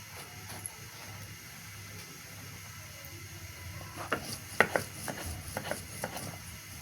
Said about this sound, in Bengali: এবার শিলপাটায় একটি রসুন বেটে নেব।